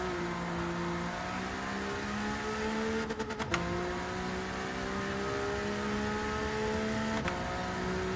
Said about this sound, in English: This car sounds incredible when you rev it out